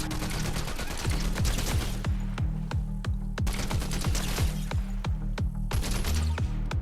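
Rapid automatic gunfire from a weapon in the video game Fortnite, loud, steady bursts of shots with brief pauses between strings, no talking.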